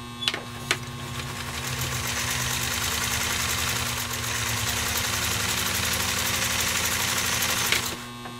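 A 1958 Singer 99K sewing machine with a 0.8 amp motor runs at steady speed through a demanding piece of work, a continuous close mechanical whir and rapid needle clatter lasting the whole stretch, with a couple of sharp clicks at start and end.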